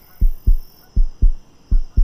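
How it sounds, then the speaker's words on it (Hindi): Heartbeat sound effect in a Hindi psychological thriller story: three paired lub-dub thumps, deep and loud, pulsing at a steady fast pace with no voices. "मेरे दिल की धड़कनें"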